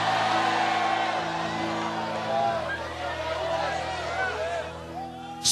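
A church congregation shouts and cheers in a loud, sustained cry of glory, a dense mass of voices with whoops and yells over a held musical backing, filling the hall.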